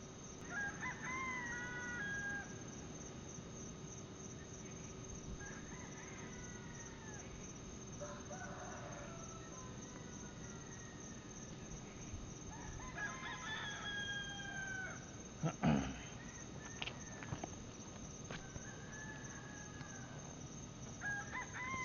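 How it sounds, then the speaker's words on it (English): Several roosters crow at intervals from different distances in a quiet night setting around 3:43 a.m., their calls overlapping faintly with a few clucks. "You hear all the roosters around crowing."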